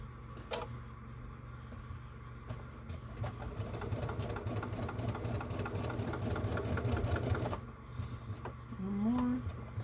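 A sewing machine stitches through a taped-down fabric clutch in a steady rapid whir, close and fairly loud for several seconds, then stops with a few softer mechanical clicks and a brief hand-turned stitch at the end.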